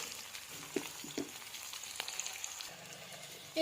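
Steady, soft sizzling of onions frying in hot oil, with a few faint clicks and stirring scrapes, no voices.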